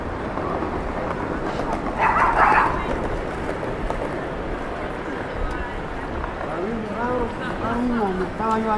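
A dog on a Madrid street gives a short yelp around the middle, then a run of whimpering whines near the end, heard over steady crowd chatter and street noise while people talk.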